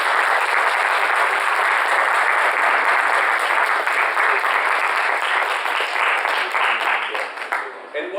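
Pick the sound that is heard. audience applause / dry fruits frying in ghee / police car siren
audience applause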